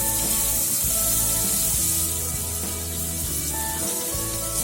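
Finely chopped onion for pav bhaji hits a hot pan with a steady, loud sizzling hiss that runs throughout, with a few soft stirring knocks.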